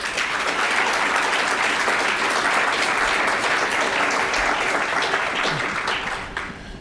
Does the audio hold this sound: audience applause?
yes